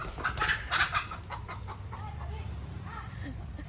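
A chicken is being chased at home during Bhogali Bihu. Loud, near clucks come in a quick cluster early on, then trail off into fainter, sparser calls, with voices in the background.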